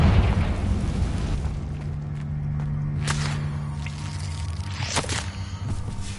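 A Confringo explosion spell in the video game Hogwarts Legacy, heard as sharp bursts and cracks over a steady low hum. A distinct crack lands near the middle and another near the end.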